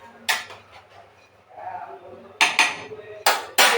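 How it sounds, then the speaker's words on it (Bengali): A spoon clanks and scrapes in a pan while shukto is stirred with ghee, sharp metallic knocks standing out in bursts between quieter moments. "ঘি দিয়ে 5 মিনিট নেড়ে চেড়ে এবার নামিয়ে নিতে হবে"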